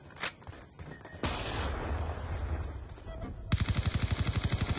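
Video game gunfire from a multiplayer shooter on the Meltdown map: scattered single shots, then a rapid automatic burst near the end, loud and close, with no talking.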